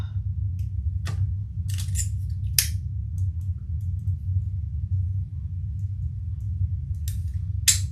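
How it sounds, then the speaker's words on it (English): Scissors trim excess fabric while sewing a crossbody bag, giving a handful of short, crisp snips scattered over a steady low room hum, with no talking. "And if there's excess on each side, which there should be, trim that off."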